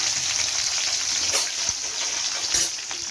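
Small shallots and plenty of garlic sauté in hot oil for vatha kuzhambu, a continuous close sizzle. It is broken by a couple of sharper stirring scrapes, with no voices over it.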